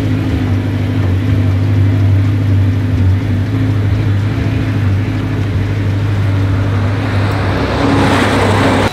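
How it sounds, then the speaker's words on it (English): An Audi R8 with a gated manual transmission merges onto a freeway. Steady, loud engine and road drone from the cabin, swelling slightly near the end. "We are merging onto the freeway with the gated manual transmission."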